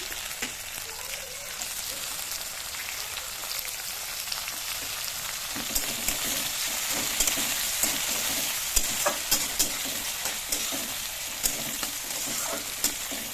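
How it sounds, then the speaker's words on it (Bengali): Green chilli and tomato for dal fry are stir-fried in hot oil, making a steady loud sizzle punctuated by a run of light scraping clicks from the stirring utensil. "এটাকে নিয়ে নাড়াচাড়া করে ভেজে নিব।"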